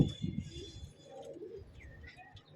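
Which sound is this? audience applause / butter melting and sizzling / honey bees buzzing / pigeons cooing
pigeons cooing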